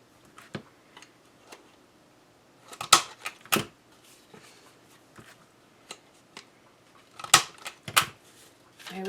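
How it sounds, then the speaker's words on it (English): Paper cutters snap shut through stacked sheets in sharp, sparse clicks and crunchy bursts, close and quiet between cuts, with a couple of louder double strokes. "these cutters will cut through multiple pieces"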